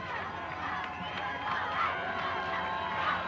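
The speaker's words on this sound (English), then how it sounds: "Yep, this is an excited crowd." A crowd of fans at a 1993 Ledyard high school football game makes a steady, moderately distant roar of cheering and chatter, with a broadcaster talking over it.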